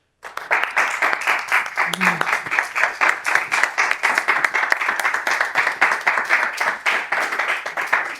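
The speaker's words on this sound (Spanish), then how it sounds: "yo les voy a pedir, por favor, un aplauso para Espido Freire" A reading-club audience in Málaga applauds the author Espido Freire, brisk closely spaced clapping from a moderate crowd, loud and rhythmic after a sudden start, with a brief voice underneath.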